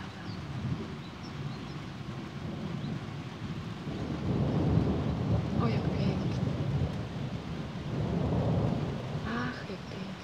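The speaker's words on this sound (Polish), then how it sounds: "Potrzebna była ta burza." A summer thunderstorm rumbles with low, rolling thunder over steady rain outdoors among trees, while birds chirp faintly and a person briefly speaks.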